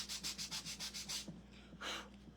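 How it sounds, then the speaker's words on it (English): Rhythmic back-and-forth sanding scrapes on a small scrap-wood piece with a bit of spackle, about eight quick strokes, then a pause and one more rub, close and fairly quiet. "I got a tiny bit of spackle on there. I'm gonna sand that."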